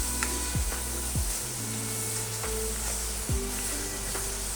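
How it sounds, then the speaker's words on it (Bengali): Spice masala for a mutton and potol curry fries in a pan with a continuous loud sizzle, broken by a few stirring scrapes and no speech. "এগুলো আমি এবার আস্তে আস্তে একটু ভেজে নিই।"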